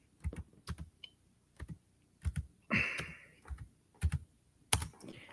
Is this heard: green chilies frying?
no